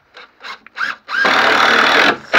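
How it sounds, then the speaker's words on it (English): A power drill drives metal stakes into wood on an allotment, first in several short whirring bursts, then one sustained loud run of about a second before stopping, with a final brief burst, close by. "he is drilling the metal stakes into the woods. As you can hear the drill"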